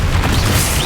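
Incendio fire spell in Hogwarts Legacy, a brief, loud, dense whooshing burst of roaring flame and boom that fills the short moment with no pause.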